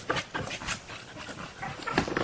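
A seven-month-old female pup, a Bully and Bambi cross, panting close up in short, quick, irregular breaths, with a faint whimpering edge at moments and no talking.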